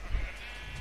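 A sheep in the Minecraft video game gives a short, single bleat, brief and fairly faint against a low background hum.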